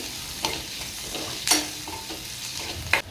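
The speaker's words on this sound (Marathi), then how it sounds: "लसूण पण छान असं परतून घ्यायचं आहे." Crushed garlic sautéing in a pan for a village-style dried Bombay duck curry, a soft steady sizzle broken by three sharp stirring scrapes spaced about a second apart, close and moderately loud.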